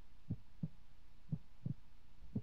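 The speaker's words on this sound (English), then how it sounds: "I recognize the heartbeat is from the Luna Games" A slow, steady heartbeat from the horror video game Creepypasta Museum 3D, five muffled low thumps spaced evenly over a soft hum, close and alone with no talk.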